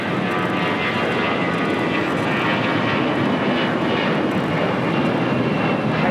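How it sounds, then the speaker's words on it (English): American Airlines A321 jet taking off from LAX for Dallas Fort Worth, a loud, continuous roar of engines at full thrust, steady and close throughout with faint talk underneath. "Next takeoff heading to Dallas, Fort Worth, Texas. American Airlines Flight 412. It's an A321."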